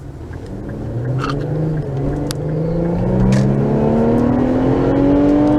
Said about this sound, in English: get it up to highway speed, and I'll be quiet and you can kind of hear it